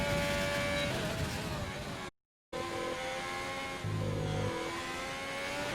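Ferrari race car engine in a racing video game at the Belgium circuit, a continuous high revving whine with shifting pitch, briefly cut out midway, heard alongside a commentator's voice.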